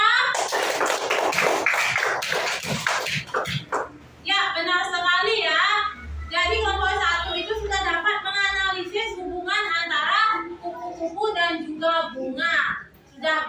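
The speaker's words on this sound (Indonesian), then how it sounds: "tepuk tangan dulu buat Karista" Classroom of children clapping hands for a classmate in an Indonesian elementary lesson, a short burst of dense claps in the first few seconds, followed by a teacher's voice talking.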